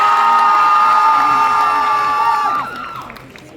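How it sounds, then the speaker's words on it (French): A large convention audience at a cosplay contest cheers and applauds for a cosplayer dressed as Furina, with loud, dense, sustained shouting and clapping that slowly fades. "Dans son cosplay de Furina, applaudissez-la fort."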